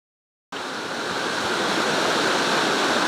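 After half a second of silence, the loud, steady rush of a river by the Bout du Monde waterfall near Volvic begins abruptly and continues unbroken, thick and close.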